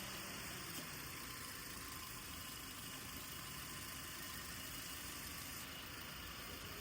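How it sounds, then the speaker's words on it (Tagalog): A secondhand Toyota Avanza E automatic idling with its engine running, a steady, faint hum with light vibration and no other sounds over it. "bukas yung makina"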